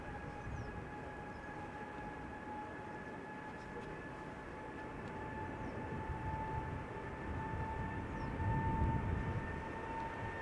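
A Finnair Airbus A350-900 takes off from the Polderbaan runway at Schiphol, its engines a steady, distant roar with a faint whine that swells slightly toward the end.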